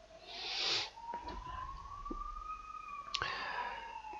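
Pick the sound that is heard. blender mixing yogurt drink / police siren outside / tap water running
police siren outside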